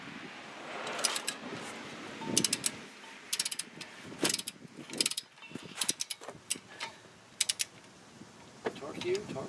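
Ratcheting socket and torque wrench work on a 2005 GMC Envoy/Trailblazer brake bolt, with repeated sharp metallic ratchet clicks in uneven bursts under light ambient noise.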